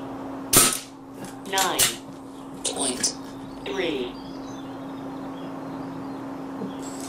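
A single sharp crack comes from an SMK XS78 .22 air rifle firing a pellet, followed by a few brief voiced sounds and a quiet room with a steady low hum.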